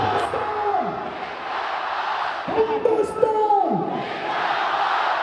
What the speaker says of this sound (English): the best bit was the scream-offs, where one soldier on each side would try to scream longer than the other